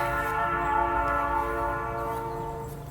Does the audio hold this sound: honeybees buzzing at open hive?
no